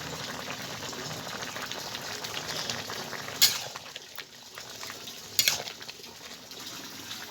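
A pot of water for a Malabar spinach curry at a steady boil, giving a soft continuous bubbling hiss, broken by two brief metallic clinks.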